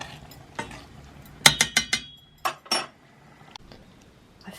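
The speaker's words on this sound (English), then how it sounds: "I flip the jars upside down, and that's to seal the lid." Glass jars of bottled tomatoes, freshly preserved with salt and lemon juice, flipped upside down to seal the lids, giving a quick run of sharp glassy clinks and knocks with a few softer taps after.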